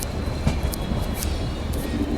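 Avadh Assam Express rumbling along inside a sleeper class coach, a steady loud rolling roar with faint rhythmic wheel clacks, heard from within the carriage.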